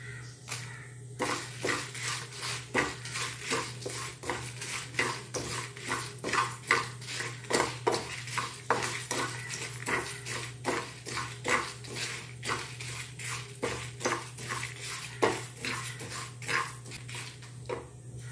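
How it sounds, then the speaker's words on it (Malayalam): Rice and dried red chilies dry-roasting in a pan, stirred with steady rhythmic scraping and rattling strokes over a low hum, close and moderately loud, no talking. "അതിലേക്ക് നമുക്ക് ഈ വറ്റൽ മുളക് ഇട്ട് കൊടുക്കാം."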